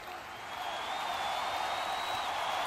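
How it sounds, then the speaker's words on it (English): A wrestling crowd cheers for Vio during a women's match, a continuous distant roar of voices and some clapping that swells slightly and holds steady with no speech. "You can hear the crowd really behind Vio."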